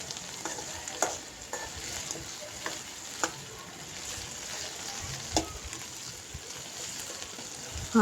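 Green chillies and mint fry in a little oil while making tomato chutney, giving a steady soft sizzle with occasional stirring clicks and scrapes.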